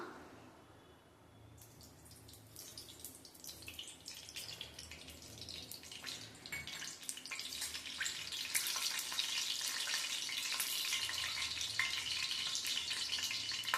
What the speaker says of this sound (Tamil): இப்போ மீன் பொரிக்கிறதுக்கு ஆயில் சேர்த்துக்கலாம்